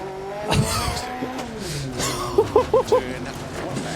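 A Group B rally car in DiRT Rally 2.0 drives hard, engine droning under a brief tire squeal and skid, then a quick series of sharp pops or gear shifts.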